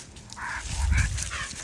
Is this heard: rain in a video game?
no